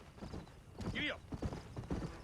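Horse hooves clip-clop at a gallop in the Red Dead Redemption video game, a quick rhythmic thudding under a brief whinny and game dialogue.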